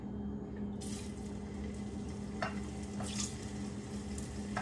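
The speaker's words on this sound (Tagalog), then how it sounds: "ipiprito ko na ang aking banana" Bananas frying in a pan while chicken pochero is being cooked give off a quiet, steady sizzle and crackle, with a couple of faint brief splashes and clinks standing out.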